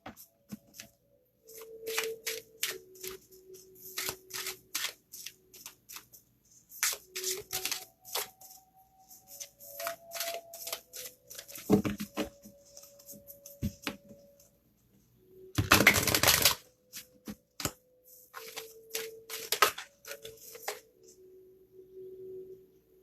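Divination cards are shuffled in repeated short bursts of crisp riffling and flicking, close and fairly quiet, with brief pauses and soft tones between, and one louder shuffle near the end.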